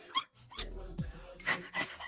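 A dog gives short yips and small barks close by, mixed with whimpering and low rumbling, in a brief busy burst.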